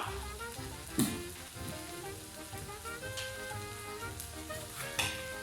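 Peppers frying in a pan for a Napoli sauce with marjoram, giving a steady, dense sizzle throughout with a couple of brief sharper crackles or clinks, close and moderately loud.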